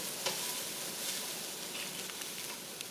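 Tofu fries in a pan with a soft, even sizzle and a few light spatula taps, close and moderately quiet, without speech.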